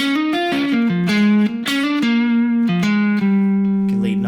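Electric guitar playing a blues lick, with a hammer-on adding attitude to the minor third, heard as clear sustained bent and slurred notes in a short phrase with no talking.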